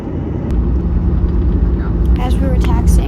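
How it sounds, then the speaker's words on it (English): Frontier Airbus A321 airliner in polar bear livery taking off, a loud sustained low engine rumble and roar heard from an airport, with another voice and some higher tonal whine layered in toward the end. "a Frontier A321 taking off in the polar bear livery"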